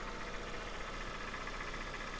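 A 1.5-liter engine in a 2002 Honda Mobilio runs steadily at idle with a faint odd noise, a constant dense hum with no change in level and nobody speaking.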